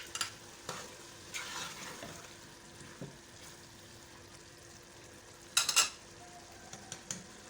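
Tomatoes go into beef jalfrezi sizzling in a pan, giving a faint steady fry with scattered stirring scrapes and a sharp clatter of utensils near the end.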